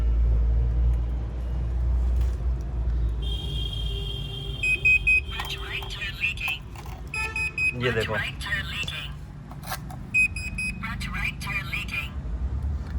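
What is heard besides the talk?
SkyShop C240 TPMS tire pressure alarm voice alert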